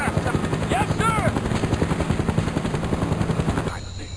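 Rhythmic helicopter rotor beating in a mobile Android game, thumping steadily with bursts of voice-like calls and combat noise layered over it, cutting off abruptly near the end.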